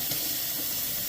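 Water runs steadily from a Delta two-handle kitchen faucet after a cartridge change, a constant close hiss without pause.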